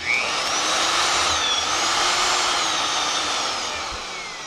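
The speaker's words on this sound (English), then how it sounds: "Using the supplied 13/32 drill bit, keeping it as straight as possible." A power drill with a 13/32 bit bores into a motorcycle frame bolt on a KLR 650, a loud, steady high whine that holds evenly and tapers slightly toward the end, with no talk.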